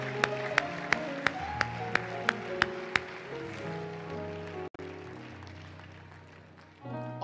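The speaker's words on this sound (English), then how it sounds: "Could we give this worship team another hand clap of appreciation?" A church congregation at a worship night claps for the worship team, crisp claps landing in a steady rhythm for a few seconds before fading under sustained keyboard chords and low music.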